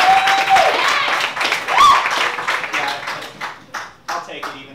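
An audience at a stand-up comedy set claps and cheers, moderate applause running under a speaking voice and fading into scattered claps.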